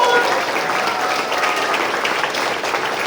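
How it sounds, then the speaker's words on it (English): An audience applauds the cast and crew after a performance, a steady, full round of clapping from many hands at an even level throughout. "Let's give a great round of applause."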